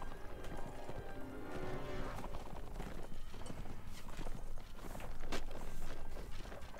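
Horse hooves pounding in a fast, continuous gallop in a medieval battle video game, steady and fairly loud throughout with busy battle ambience around them.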